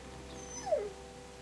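A dog in The Walking Dead video game lets out a single short, falling whimper, close and fairly faint against a quiet background.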